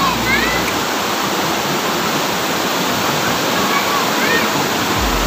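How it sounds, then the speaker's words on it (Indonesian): River water flows steadily in a broad, constant rush close by, with faint voices of people talking and bathing in the background. "Oh, ini dia sungainya."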